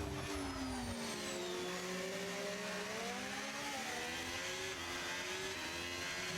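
On-board engine of an F1 car racing at Hungary, loud and continuous, revving up through the gears with rising and falling whine close to the listener, no talking.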